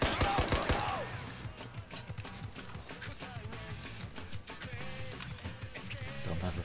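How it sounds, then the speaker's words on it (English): Gunfire in a multiplayer video game, rapid bursts of shots cracking repeatedly over a couple of seconds while excited players shout and talk over it. "Stop shooting at me!"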